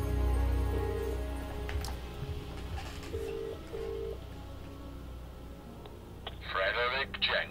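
A telephone in a phone box is dialed to call the chief, with a few short tonal beeps over a low hum and ambient game sound, followed by a brief burst of noise at the end.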